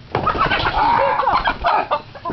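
Chickens clucking and squawking close by in a short, busy burst of calls, with a brief flutter of wings.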